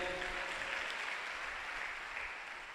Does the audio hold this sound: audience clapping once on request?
yes